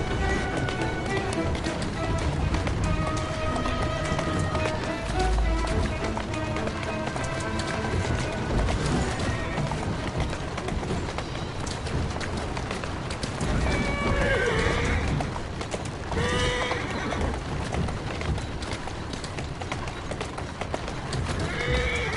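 Hooves clip-clop steadily over a dense, busy backdrop in the video game Assassin's Creed: Syndicate, with a horse neighing partway through and some voices mixed in.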